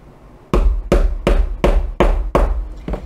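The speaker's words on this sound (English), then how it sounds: "I'm just going to use my hammer" Six firm hammer taps in a steady rhythm, securing a swing tag, each a sharp, close knock with a brief ring, loud and isolated.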